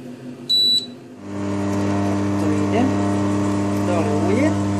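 A simple home oil press crushes sunflower seeds, giving a steady, close motor drone with a constant low hum. A short electronic beep sounds near the start, and a voice can be heard faintly over the machine.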